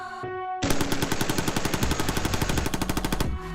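Automatic weapon firing a fast, even burst of shots for about three seconds, loud and close, with a brief tonal sound before it and no talking.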